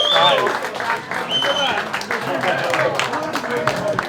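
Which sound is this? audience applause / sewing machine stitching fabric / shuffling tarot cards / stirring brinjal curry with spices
audience applause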